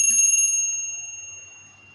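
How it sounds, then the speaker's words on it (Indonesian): A single bright bell strike rings out clearly, its metallic tone sustaining and slowly fading away over a couple of seconds. "saya akan memulai dengan tanda lonceng berbunyi"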